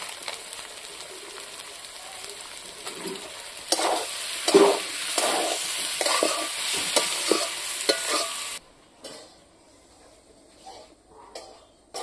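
Salt, turmeric and dried chilli powder sizzle in hot oil in a pan while being stirred with scraping strokes for about eight seconds, for a paneer curry, before the frying drops to faint, sparse crackles.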